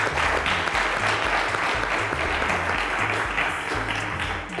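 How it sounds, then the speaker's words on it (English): Studio audience applause for a contestant on a televised quiz show, a sustained burst of clapping with a low rhythmic music bed pulsing underneath, fading slightly at the end. "Round of applause to Samuel."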